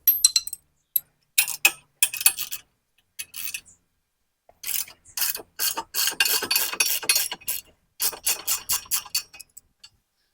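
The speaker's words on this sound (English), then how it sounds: "So I'm going to take the nuts off first." Nuts being spun off bolts on a 2023 Kioti RX7320 tractor with a ratchet, giving bursts of quick metallic clicking in short runs separated by pauses, close and fairly loud with no talking.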